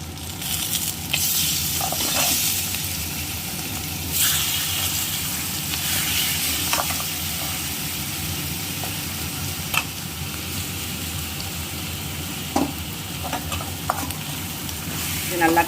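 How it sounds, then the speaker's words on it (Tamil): Marinated chicken for a spicy chicken kara curry sizzles steadily in a hot pan, while a spoon scrapes and clatters as it stirs the pieces. The frying is loud and continuous and runs throughout. "இப்போது மேக்னேட் பண்ணி வச்சுருந்த சிக்கனை இதில் சேர்த்துக்கலாங்க"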